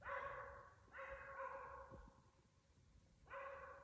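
A dog barks in three bursts of harmonic, yelping barks, the last after a short pause, heard at moderate distance with no talking.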